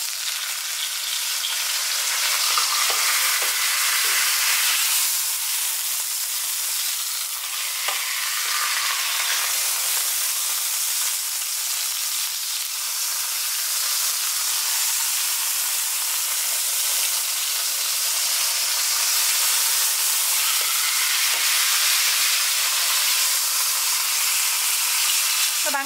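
The edges of a piece of beef fry in a hot pan, giving a loud, close, unbroken sizzle dotted with small crackling spits and splatters.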